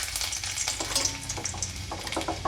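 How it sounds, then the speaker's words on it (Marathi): Garlic frying in hot oil in a wok, a dense, steady sizzle with crackling spatters running continuously and close throughout, with no talking. "तेल गरम झाले, यामध्ये आता लसूण टाकू"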